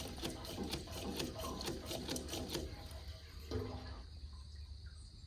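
Fuel gurgling and splashing from a Scepter Flo N' Go 14-gallon fuel caddy pump, faint rapid sputtering pulses of liquid flow that settle into a smoother trickle.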